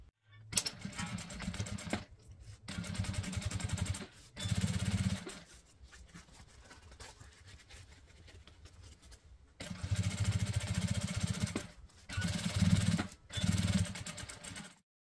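Sewing machine topstitching a zipper placket at stitch length 4.5, running in several loud steady bursts of rapid stitching separated by brief pauses and a longer quieter stretch, close up with no talking.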